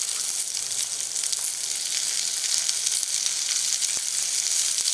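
Small shallots and tomato sauté in a pan with curry leaves and coriander for a chutney, giving a steady close sizzle with faint crackles throughout.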